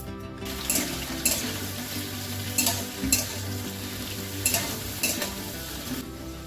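Cauliflower fries in hot oil in a home kitchen, a continuous sizzle broken by repeated stirring scrapes and clinks, close and moderately loud.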